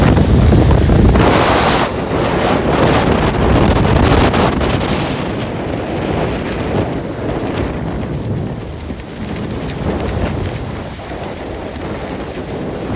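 Heavy water spray pours over a tour boat at Niagara Falls, making a continuous loud roar with wind buffeting the microphone throughout and no break.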